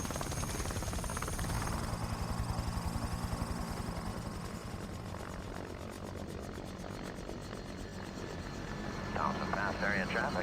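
Steady rotor and engine drone of a helicopter lifting off in a snowboarding setting fills the background, with a fast rhythmic thumping early on and a voice speaking over it.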